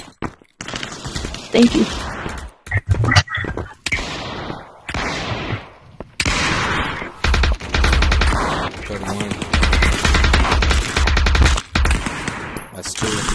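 Rapid automatic gunfire from the VR shooter Aim XR rattles in dense bursts for most of the stretch, loud and close, with short pauses between volleys and a brief spoken phrase early on.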